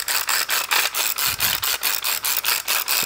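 Hand pepper or seasoning grinder set to a medium grind, twisted over a lamb rack, producing a steady series of about a dozen rhythmic gritty crunching bursts, close and fairly loud with no talking.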